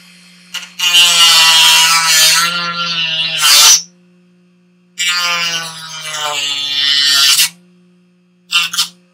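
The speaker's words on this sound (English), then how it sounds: "I'm also going to do a little bit more cleanup on the edge here, just using the Dremel, just to clean that up." A Dremel rotary tool cleans up the edge of a costume armor handplate piece, giving two long, loud, high whining grinding bursts close up, each lasting a few seconds, with a short final touch at the end.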